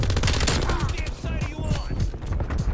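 Rapid, continuous bursts from an MG-82 light machine gun in Call of Duty Cold War, a dense close fusillade of shots filling the whole stretch with little pause.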